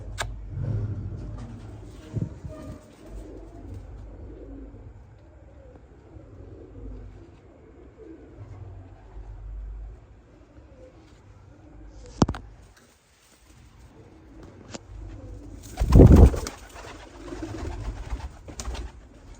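Pigeons coo softly in the background amid low rumbling ambience, with a sharp bump and a louder burst of fluttering near the end.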